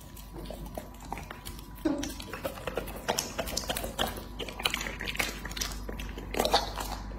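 A dog biting and chewing durian, wet crunchy bites and smacking mastication repeating in an uneven rhythm close to the microphone.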